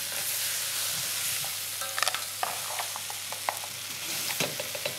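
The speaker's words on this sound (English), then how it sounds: "Give those shells a good stirring with the vegetables." Crab shells and vegetables cook in a pan for a crab bisque while being stirred, with a constant sizzle under scattered clicks and rattles of shells knocking against the pan and spoon.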